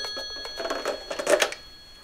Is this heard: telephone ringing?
yes